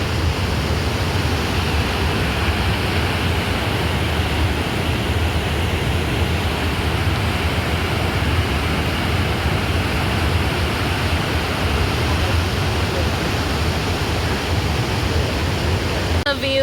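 Rushing river water, a loud and steady broadband roar that runs unbroken throughout, with no talking over it.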